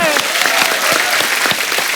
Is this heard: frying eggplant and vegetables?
no